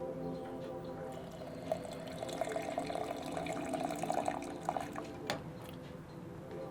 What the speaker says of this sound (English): you can use this hot water spout here